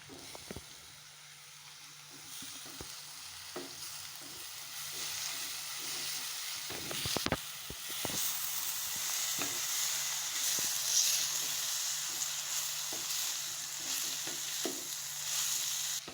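Small dried fish fry in oil with chili powder, giving a soft, continuous sizzle at moderate distance, with occasional scrapes and taps as the pan is stirred.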